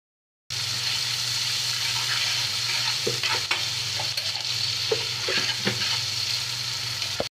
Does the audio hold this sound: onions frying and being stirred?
yes